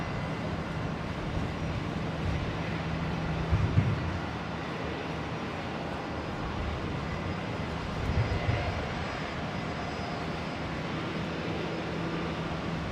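A Qantas airliner arriving from Perth at Brisbane International Airport produces a steady, moderate engine rumble and whine that continues the whole time, with a couple of brief low thumps and no talking.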